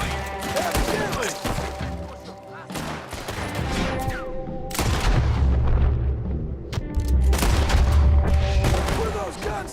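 Gunfire in Red Dead Redemption 2, rapid overlapping shots and booming blasts with low rumble, loud and sustained, with voices talking over parts of it.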